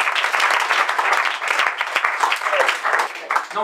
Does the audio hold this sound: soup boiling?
no